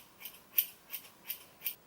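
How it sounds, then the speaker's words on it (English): Scissors snip at hair in a self haircut, five or six light, crisp close-up cuts spaced unevenly over a quiet background. "take the scissors and where there's bits that are too long, just cut them off"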